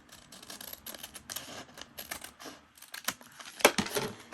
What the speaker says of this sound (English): I need to cut this end off